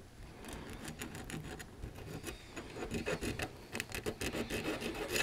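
A hand file rasps burrs off the end of HO scale flex track rail, producing close, rapid back-and-forth scraping strokes in an irregular rhythm that grow louder and choppier toward the end, with no voices.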